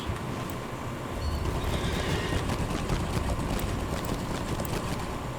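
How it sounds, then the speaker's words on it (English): A horse whinnies and its hooves clip-clop steadily in the Lord of the Rings Online game, the ride continuous over a wash of wind and ambient noise, with no talking. "Back on my horse."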